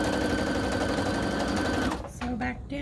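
A sewing machine runs in a fast, steady whir as it back-stitches ribbon trim onto a tutu, then stops with a few short clicks and ticks.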